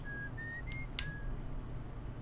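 Whistled melody from a player character in the space exploration game Outer Wilds, a few clear sustained tones rising in steps, heard alone over a steady low ambient hum.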